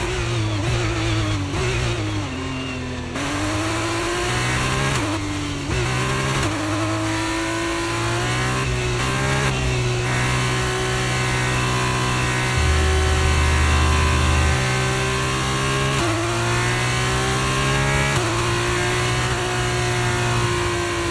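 A race car engine in the F1 22 video game revs loudly and continuously at a practice start, its pitch climbing and dropping in repeated surges, close and with no voices.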